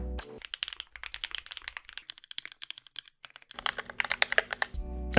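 Fast, steady typing on a Keychron Q1 custom mechanical keyboard, close and clear, with dense clacking keystrokes running nearly the whole time and a brief pause midway.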